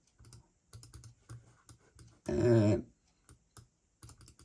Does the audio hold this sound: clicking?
yes